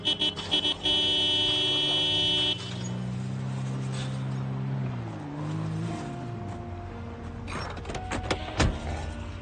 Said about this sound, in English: I will roll up and do another toot momentarily here.